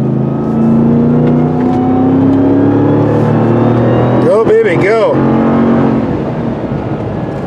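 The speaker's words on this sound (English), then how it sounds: "the massive amount of torque produced by this engine is fantastic" A 2021 RAM 1500 TRX pickup with a supercharged Hellcat engine accelerates uphill on a road, a loud, close, continuous engine roar whose pitch climbs steadily, with a brief rising and falling surge partway through.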